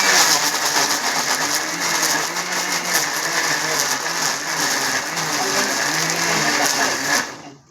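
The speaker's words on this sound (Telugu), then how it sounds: "ఓకే, ఇప్పుడు మనం మిక్సీ వేయబోతున్నాం" A kitchen mixer grinder blends bananas for a banana cake, a loud, steady motor whir with a rattling grind that runs without a break and cuts off near the end.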